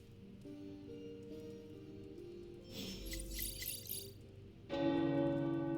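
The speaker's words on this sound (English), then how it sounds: "The tower bells are ringing." Tower church bells ring in the Marvel's Midnight Suns video game, a bright metallic peal swelling midway over a steady musical backdrop, then fading as louder music rises.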